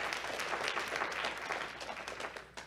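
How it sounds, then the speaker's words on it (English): A crowd applauds steadily throughout, dense clapping at a constant level with no pauses. "Give her a round of applause"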